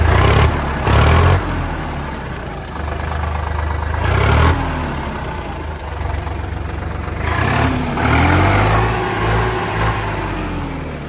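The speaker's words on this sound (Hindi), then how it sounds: "सबसे पहले ट्रैक्टर की आवाज़ चेक करो" A Preet 6049 Super tractor engine runs steadily, loud and close, with rising revs and a few throttle surges over a low idling rumble.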